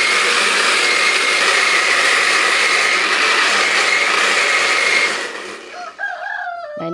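A blender grinds spices loudly with a steady high-pitched whirring for several seconds, then cuts off and winds down, leaving faint clinks and rattling.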